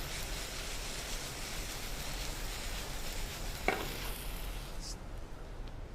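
Pasta tossed in a hot pan, a steady, close, loud sizzle and frying hiss running throughout, with a brief clatter of the pan midway and the sizzle easing slightly near the end.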